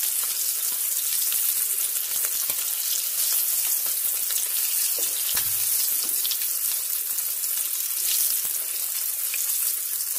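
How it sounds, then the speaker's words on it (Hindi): Pieces of meat boti frying in oil over a medium flame, a loud, continuous crackling sizzle that stays dense and steady throughout, with no voices. "इनको भी फ्राई कर लेंगे"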